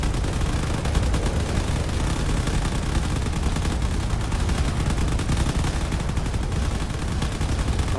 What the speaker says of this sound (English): Just the amount of railgun that's coming in is actually just removing some turrets entirely from their post here